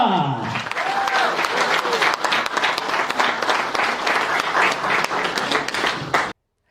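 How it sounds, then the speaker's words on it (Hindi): An event audience greets a guest called on stage with loud, sustained applause of many hands clapping at once, dense and close, which stops abruptly near the end. "आप सभी की जोरदार तालियों के साथ"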